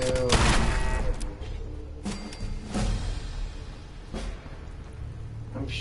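Gunfire in the video game Fallout crackles in several sharp bursts spread across the moment, each shot followed by a short decay, with quieter game ambience between them.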